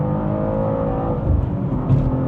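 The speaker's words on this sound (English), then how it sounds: "you hold the accelerator down" A fast road car accelerates hard, its engine revving in a loud, steady, buzzing whine that swells slightly as speed builds, with no talking.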